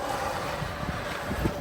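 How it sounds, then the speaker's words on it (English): Strong wind buffets the microphone at an outdoor concrete slab pour, a steady broadband roar with occasional low gusty thumps, continuous and close throughout. "holy mackerel, it's windy"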